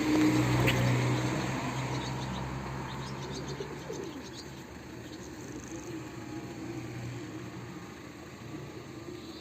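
Pigeons cooing softly up close in a loft, low murmuring calls that fade slightly over time, with a few faint chirps in the background.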